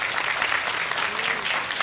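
Broad applause from the audience at a Hyderabad school function for the Nizam's birth anniversary, greeting Princess Asra with a continuous wash of clapping and no pauses.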